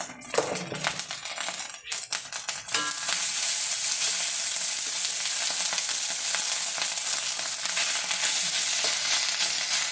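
Cooked rice is tipped into a hot pan with curry leaves for lemon rice. A few scrapes and clatters come first, then a loud, steady frying sizzle carries on to the end.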